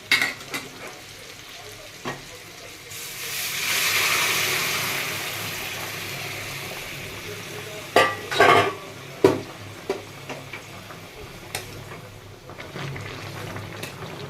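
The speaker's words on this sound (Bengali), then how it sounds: "এবার আমি জলটা দিয়ে দেবো, গরম জলটা আমি দিয়ে দেবো।" Hot water pours into potatoes frying in oil in a pan, a loud rushing hiss swelling for a few seconds, followed by scattered clinks of a utensil against the pan and a low ongoing sizzle.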